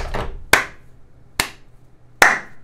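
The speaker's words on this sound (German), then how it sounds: "An der Stelle Applaus" Three loud, sharp hand claps, slow and evenly spaced, each ringing briefly with no talking between them.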